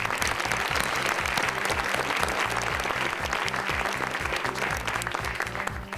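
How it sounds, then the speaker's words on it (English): A crowd at a city employee awards ceremony gives a dense round of applause for the winners, continuous clapping filling the room alongside a rhythmic low thumping beat throughout. "let's please give another round of applause to all of our winners today"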